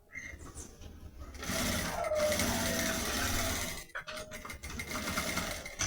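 A sewing machine runs in a steady, close burst, stitching clear crystal plastic onto a fabric toothbrush case, pausing briefly before resuming.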